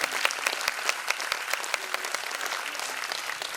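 An audience gives sustained, dense applause for dance performers and their guru Sheetal Kapole at the Nrityanvita 2025 dance event in Kalyan's Atre Rangmandir, steady clapping that fills the hall without letting up.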